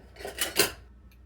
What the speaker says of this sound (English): I can stir it up and make it into a liquid instead of a paste